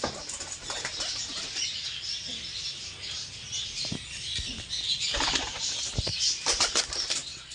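Pigeons on sale, black-pied birds among them, beat their wings in bursts of rapid flapping, close and fairly loud, with softer rustling and faint bird sounds in between.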